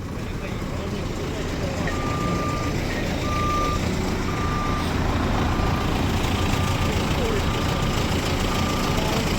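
A truck reverses into a yard between a house and a cellar, sounding evenly spaced reversing beeps over a constant rumbling engine close by.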